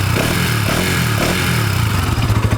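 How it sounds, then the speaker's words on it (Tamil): A Bajaj NS200 BS6 motorcycle engine idling loud and close with a steady, rough rumble and mechanical clatter, ending in a few quick throttle blips. "ஃபர்ஸ்ட் வந்து இன்ஜின் சவுண்ட் பார்ப்போம்."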